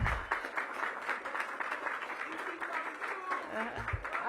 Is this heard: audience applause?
yes